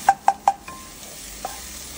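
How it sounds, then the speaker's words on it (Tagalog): Onion cooks in a pan for chop suey: three sharp metallic taps of a utensil on the pan come in quick succession, followed by a faint, steady sizzle and one softer knock. "Gisa natin hanggang sa maluto."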